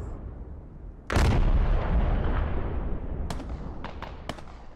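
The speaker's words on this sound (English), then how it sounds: "Looks like INS forces throwing all of the indirect fire they can on the bridge." Artillery shells pounding a bridge in the military game Squad: one heavy, booming impact with a long rumbling tail, followed by several sharper, more distant cracks and blasts.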